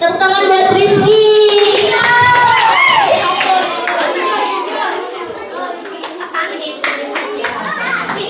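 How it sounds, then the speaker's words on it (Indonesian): Students clap for a classmate named Rizky during an anti-bullying class campaign, loud dense applause and children's voices starting at once and tapering into scattered claps and chatter. "Tepuk tangan buat Rizky."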